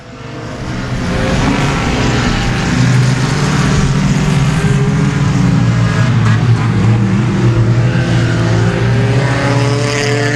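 Race cars roar around Timberline Speedway in a loud, sustained engine drone that swells and holds as the pack passes, with no talk over it.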